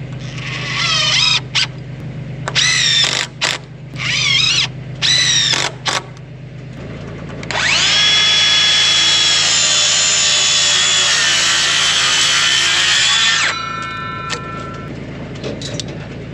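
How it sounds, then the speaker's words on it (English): A power drill whirs in several short bursts driving screws into a wooden fascia board, then a longer steady saw cut through the board, close and loud, on a post frame garage build. "Now we'll go down there, screw that in, cut it off"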